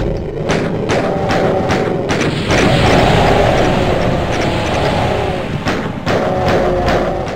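Repeated pistol shots from the classic Doom game, Knee Deep in the Dead episode, punching through a dense, loud wash of game noise and music, several sharp thuds spaced irregularly across the stretch.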